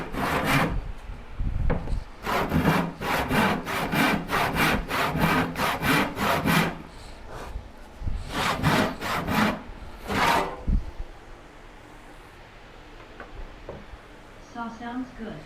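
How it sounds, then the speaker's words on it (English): Hand saw ripping along wooden boards for a Shaker Enfield cupboard, steady rapid back-and-forth rasping strokes in close, loud bursts with short pauses between runs, then quieter handling at the end. "Saw sounds good."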